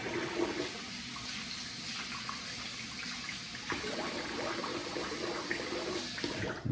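Running tap water rinses a face after a wet shave, a steady close hiss and splash that continues unbroken throughout.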